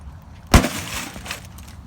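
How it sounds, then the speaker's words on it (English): A President's Choice microwave with a metal protective plate being smashed: one loud, sharp crash of breaking glass and metal, followed by a short scatter of rattling debris. "Smashing President's Choice microwave."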